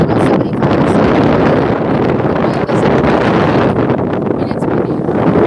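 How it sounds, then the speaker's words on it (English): Wind on a Florida beach in spring buffets the microphone with a loud, constant roaring rumble that barely lets up. "And it's windy."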